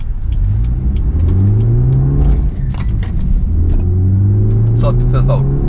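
BMW F30 LCI 320i in sport plus mode with traction control off, its engine droning steadily and rising in pitch as it accelerates, heard from inside the cabin with a continuous road rumble and occasional speech.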